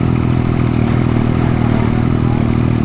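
A 2017 Yamaha FZ-07 motorcycle engine running close by with a loose throttle, a loud steady mechanical hum and clatter with no clear rise in revs over the short stretch, and no talk.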